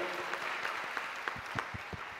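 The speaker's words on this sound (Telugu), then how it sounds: "గట్టిగా చప్పట్లు కొట్టి దేవుని మహిమపరచును." Church congregation clapping loudly in praise during a worship message, a dense burst of applause with a few sharper claps standing out over about two seconds.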